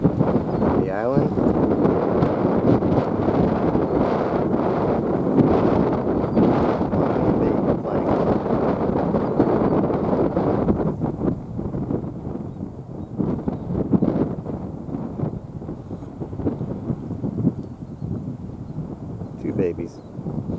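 Strong, continuous wind buffeting the microphone with a roaring rumble throughout, easing slightly partway through, outdoors where turkeys roam; a voice may be faintly buried under it.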